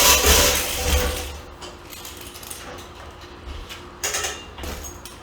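An air hose reel with a repaired cam mechanism is pulled out and let back, giving creaking, ratcheting mechanical clicks and a low rumble, with louder bursts near the start and again toward the end.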